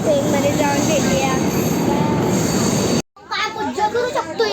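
A passenger train in Uttarakhand rumbles loudly with screeching wheel squeals, heard close amid chatter and voices of a crowd, briefly cut off before resuming with talk over it.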